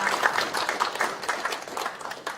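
An audience at a 2020 Liberty Korea Party launch ceremony for its economic advisory team claps steadily, a dense even wash of many hands close by that holds for the whole stretch.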